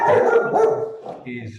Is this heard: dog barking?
yes